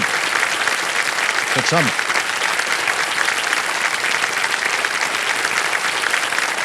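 A studio audience at the KBC quiz show bursts into sustained, dense applause that fills the whole stretch at a steady loud level, with a voice speaking briefly over it.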